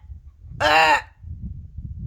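A person's voice imitates a goose's honk with one harsh, drawn-out nasal call lasting about half a second, loud and close, surrounded by quiet low background noise.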